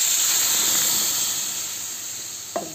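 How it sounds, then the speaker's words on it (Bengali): Water goes into a hot pan of sautéed potato and pointed gourd curry and sets off a steady, loud hiss and sizzle that slowly fades, with a faint utensil tap near the end. "এবার পরিমাণ মতো জল দিয়ে দেবো।"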